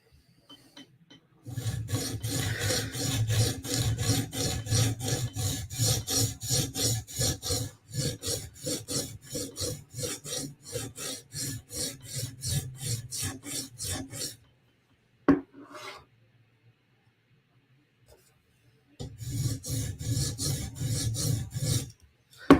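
A blade held in a clamp is sharpened with long, rhythmic rasping strokes that run steadily for about fourteen seconds, stop briefly with a couple of faint clicks, then resume for a short final series.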